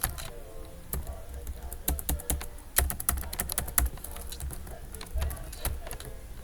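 Computer keyboard keys clatter as HTML code is typed, bursts of quick close clicks separated by short pauses, with a faint background hum.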